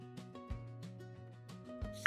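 A knife slices cucumbers into rounds on a cutting board, with quick, irregular taps close up and no talking.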